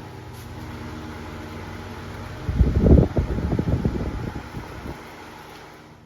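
A Hurricane Pro 16-inch high velocity fan runs with a steady airy whir, and a brief louder burst of rumbling wind noise comes in the middle before it settles back.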